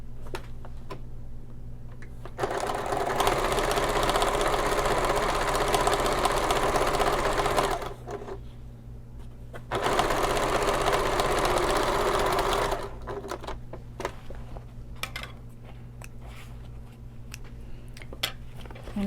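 Sewing machine stitching a bag's lining piece to an exterior piece, loud rapid mechanical chatter in two long bursts separated by a short pause, followed by quieter ticks and handling noises.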